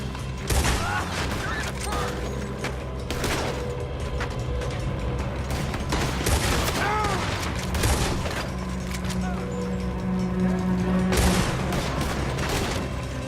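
Rapid gunfire rattles through a Red Dead Redemption 2 shootout, with sharp bursts crackling over a steady low rumble and shouted voices in between.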